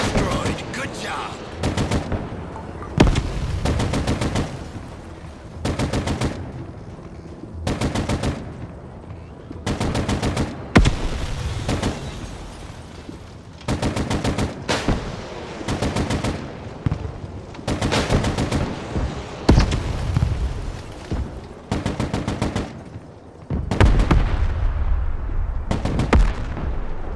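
Heavy gunfire rattles through a Broken Arrow battle in long, loud bursts of machine-gun and rifle fire, broken by short pauses, with booming impacts mixed in throughout.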